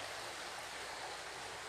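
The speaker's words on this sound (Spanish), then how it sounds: "Riberas del río Mixteco, El Muro." Mixteco river in Oaxaca's Mixteca region flowing along its banks at El Muro, a steady broadband rush of water holding an even level throughout, with no voices.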